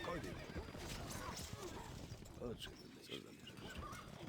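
Horses neigh and whinny in a Stronghold Crusader medieval strategy game mission, mixed with hoof clatter and battlefield din. The sounds play continuously at moderate loudness under overlapping game voices.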